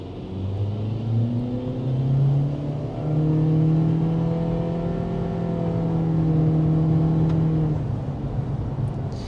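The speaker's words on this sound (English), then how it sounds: "That was the acceleration inside of the LX CR-V." Inside a 2023 Honda CR-V LX with a 1.5 liter turbocharged four-cylinder, the engine hums steadily and rises in pitch as the SUV accelerates, a smooth continuous drone heard from the cabin with no talk.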